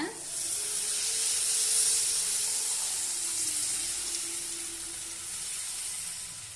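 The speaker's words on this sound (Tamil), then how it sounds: "இப்போ கருவாட்டு கூட புளி கரைசலை சேர்த்துக்கலாங்க." Tamarind water poured into a pan of frying dried fish, a broad hissing sizzle swelling near the start and slowly easing, close and continuous with no talk.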